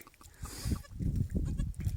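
A goat that has just given birth bleats a few times close by on a snowy day, short wavering cries over low rustling and background noise.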